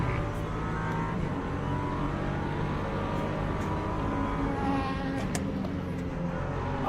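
An LMP2 prototype race car in the sim racing game Le Mans Ultimate at Silverstone, a steady engine drone with rising whine as it approaches from behind, continuous and moderately loud.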